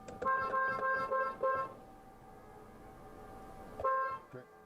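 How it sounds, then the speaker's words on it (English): A car horn honks in a series of short toots, then goes quiet, then gives one more blast near the end, loud and close from inside a rideshare car. "The furious driver tries to honk the horn, hoping the passenger will pick up his garbage."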